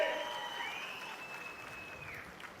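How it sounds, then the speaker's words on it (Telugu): A crowd applauds at an outdoor political rally for a government weaving scheme in Chirala, a sustained wash of clapping with a loud voice ringing over it through a reverberant public address system. "గట్టిగా చప్పట్లు కొట్టి హర్షాన్ని ఆమోదం తెలియజేయండి"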